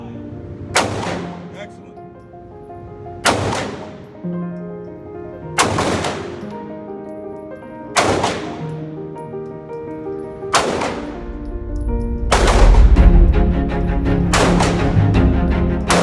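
Handgun shots at a concealed carry firing range, about seven sharp, loud reports spaced a couple of seconds apart, each ringing out briefly, with the last few coming faster, and a brief spoken word between shots.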